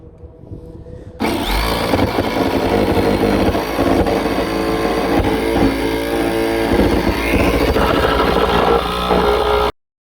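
A jigsaw cuts through a van roof to open a skylight, a loud, steady buzzing rasp that runs close and unbroken for about eight seconds before stopping abruptly.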